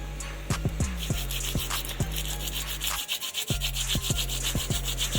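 Sandpaper rubs oil off a bicycle disc brake rotor in quick, close scrubbing strokes that come in a rapid rhythm, stop briefly near the midpoint, then resume at the same pace.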